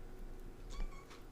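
A house cat gives one short meow midway through, fairly faint against a quiet indoor background, with no one talking.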